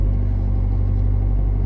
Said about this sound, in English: I'm just gonna step on the accelerator slowly, so the tire starts rotating.